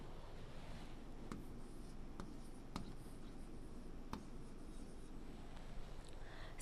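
Marker or chalk strokes on a classroom board during a Class 1 lesson: a few short scratchy taps and swipes, faint, over a steady hiss of room noise.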